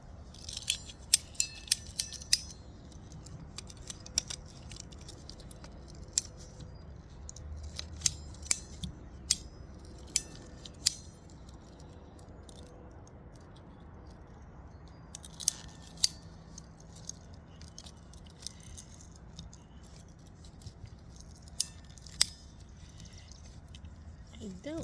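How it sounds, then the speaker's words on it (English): PVC irrigation pipe being cut by hand with a cutter, giving sharp scattered snips and clicks over a quiet outdoor background, with occasional soft handling noises. "So I'm going to cut this pipe."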